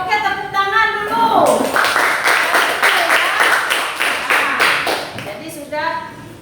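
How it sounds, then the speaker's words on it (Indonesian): A classroom group claps hands together in quick rhythmic bursts after a teacher speaks, loud and close, with talking before and after the clapping. "Ya, oke, tepuk tangan dulu."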